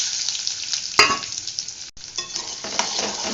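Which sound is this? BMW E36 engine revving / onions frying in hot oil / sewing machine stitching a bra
onions frying in hot oil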